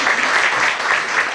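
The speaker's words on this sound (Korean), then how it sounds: "우리 다 같이 박수로 한번 하겠습니다" A church congregation applauds together during a 40th-anniversary thanksgiving service as Bibles are brought forward, a dense, steady wash of clapping from start to finish.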